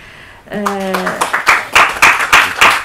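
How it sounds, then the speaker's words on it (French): Conference audience on sport and the integration of migrants and refugees in Europe breaks into applause after a brief spoken word: a run of distinct, fairly close hand claps gaining strength. "Je propose qu'on l'applaudisse."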